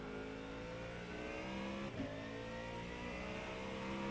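Sports race cars in an IMSA Daytona racing video game, a sustained, buzzing engine tone with layered harmonics and a brief surge near the middle as traffic draws close, fairly quiet and without talk.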